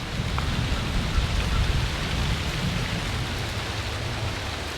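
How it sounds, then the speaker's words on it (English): Steady heavy rain hisses continuously with a low rumbling undertone, dense and enveloping, with no voices. "Yeah, it's raining now."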